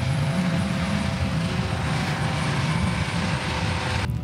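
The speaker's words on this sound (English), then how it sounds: "A fucking helicopter comes across the ocean." A helicopter flies over the ocean off Miami Beach, its rotor and engine making a steady, loud, continuous drone with no talking.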